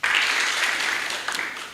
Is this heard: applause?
yes